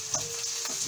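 Minced meat frying lightly in a pan as pierogi filling, a short steady sizzle with faint stirring and no voices.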